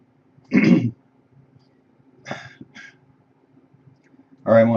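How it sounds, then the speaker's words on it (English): A man clears his throat in three separate bursts, the first and last loud and rough, with a softer, shorter one in between, close to the microphone in an otherwise quiet room. "I'm going to pause here, clear my throat some."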